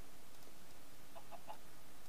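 Chickens in the Minecraft modpack Stoneblock 2 give three soft, short clucks in quick succession over a faint, steady background hum.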